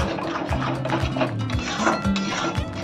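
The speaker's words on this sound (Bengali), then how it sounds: "গ্যাসের ফ্লেমটা হাই করে এই মশলাকে একটু কষাবো" Spice paste frying in a pan over a high gas flame for a soy chunk curry, a steady sizzle and bubbling with occasional scraping and clinks of a utensil against the pan.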